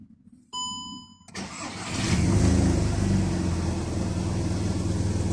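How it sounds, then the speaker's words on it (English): A VW Golf/Jetta Mk5 starts up after a short dashboard chime: a brief crank catches, and the engine settles into a loud, steady idle close by. "So what I need to do right now is just to start up the car."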